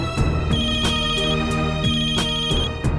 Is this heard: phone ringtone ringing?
yes